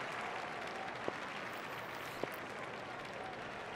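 Crowd cheering and applause in the cricket video game Don Bradman Cricket 14 after a batted shot, a steady wash of stadium crowd noise with a couple of sharp clicks.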